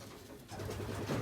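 A racing pigeon cock coos in a breeding loft, a soft low rolling coo rising slightly over a second, close but quiet against background hum.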